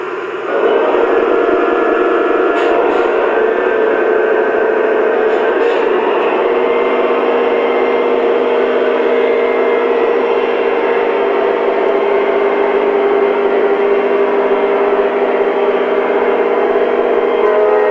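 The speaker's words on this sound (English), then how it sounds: "This S-gauge train will idle for a minute" A continuous mechanical hum and whir of a small S-gauge model train engine idling and running drones on steadily and fairly loud, with a couple of faint high clicks early on.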